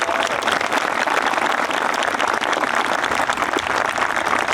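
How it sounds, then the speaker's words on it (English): Steady applause from a large crowd at a graduation ceremony, dense and even throughout with no pauses or voices standing out. "That absolutely deserves a big round of applause."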